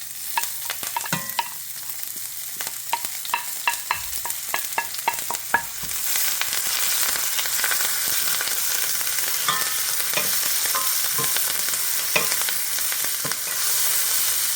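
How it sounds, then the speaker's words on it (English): Thyme, a Scotch bonnet pepper, garlic cloves and green onions sauté in a hot pan with a steady sizzle, broken by stirring clatters at the start and a brighter, fuller frying hiss after a few seconds, with no talking. "we're going to start off by sauteing these lovely ingredients"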